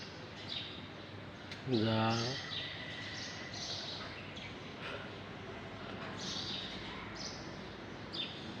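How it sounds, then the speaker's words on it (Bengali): Birds chirp around a village in the morning, scattered high calls coming and going under steady ambient noise, with a brief low voice and a loud rising burst near the start. "পাখির কিচিরমিচির"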